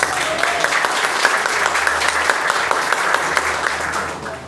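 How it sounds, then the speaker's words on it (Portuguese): A church congregation claps together in a brief, fairly loud burst of applause that stays steady and then tapers slightly at the close, with a low hum beneath. "vamos dar um aplaudir?"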